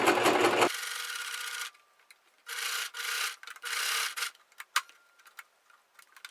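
A sewing machine runs in several short bursts while stitching scrunchie fabric, each run a brief whirring rattle separated by quiet pauses and faint handling clicks, close and fairly soft.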